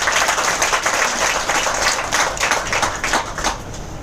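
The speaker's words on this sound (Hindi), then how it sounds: "जोरदार तालियां सर को" An audience claps loudly and steadily for Urmil sir at a seminar, dense continuous applause lasting a few seconds.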